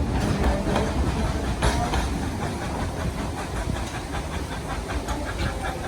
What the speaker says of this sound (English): It is a genuine coal-fired Type 282 steam engine.